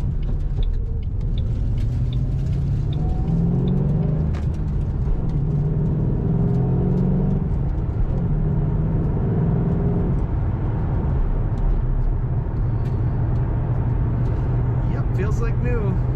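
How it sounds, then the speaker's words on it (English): A 2007 Ford Mustang Saleen H281 Heritage Edition cruising on a dry road, with a steady low engine and exhaust drone and road rumble running throughout, while someone talks over it. "It's a pretty quiet ride, except for that lovely exhaust note."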